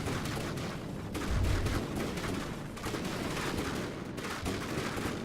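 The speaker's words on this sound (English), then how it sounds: "my top Gatling is catching my armor slightly" Gatling guns blaze in the naval combat game From The Depths, a dense, continuous rattle of rapid fire with a few heavier booming bursts mixed in, sustained and loud throughout with no voices.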